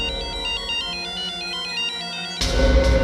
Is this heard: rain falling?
no